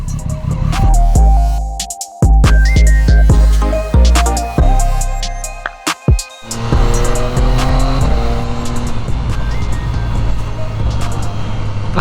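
Triumph Street Triple 675 motorcycle ridden on the road, loud close engine revving through the gears with sharp rising and falling pitch, brief dips between shifts, then a steadier drone with wind rush.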